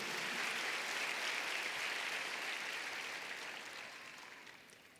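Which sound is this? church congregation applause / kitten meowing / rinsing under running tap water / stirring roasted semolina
church congregation applause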